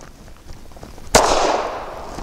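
A single sharp, loud gunshot from a Springfield Armory 380 911 pistol firing 95 grain FMJ ammunition at a target, a close crack with a short ringing decay and no one talking.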